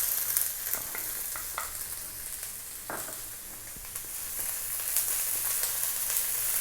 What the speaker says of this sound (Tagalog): Lalagyan na po natin yung ating sibuyas.